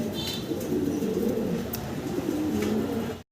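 A pair of jet-black Danish pigeons with red eyes coo steadily in low, rolling phrases, close and continuous, with faint chirps from other birds above.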